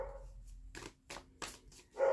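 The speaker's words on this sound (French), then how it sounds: "le chien vous dit bonjour" A dog gives a few short barks at a relaxed pace in a quiet indoor winter vlog setting, moderately close and fairly soft, with a brief higher yip near the end.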